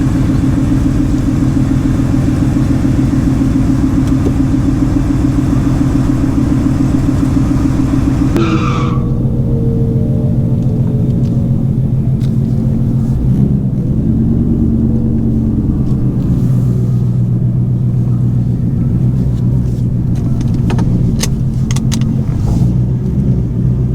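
A loud supercharged Mustang GT engine roars steadily on a drag strip, then drops and shifts with rumbling revs and tire noise, no voices over the mechanical din.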